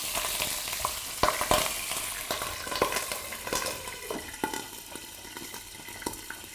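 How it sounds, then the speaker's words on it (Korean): Frozen tilefish sizzles as it grills in a pan, a steady fry crackle broken by sharp pops and clicks of utensils, close and with no voices. "지금 옥돔이 익어가는 소리 들리시나요?"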